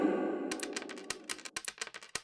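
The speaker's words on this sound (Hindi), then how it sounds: "उसी बर्तन में सोने के सिक्के नापने लगे दोनों" Gold coins clink and jingle as they are measured into a metal pot, a quick run of bright, sharp metallic taps and rattles close by after a brief low hum, with no talking.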